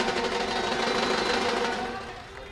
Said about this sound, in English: Always good to hear some noise in the ground